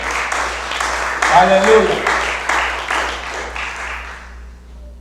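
A church congregation breaks into applause during a Spanish-language service, a steady round of clapping under a preacher's voice that tapers off toward the end.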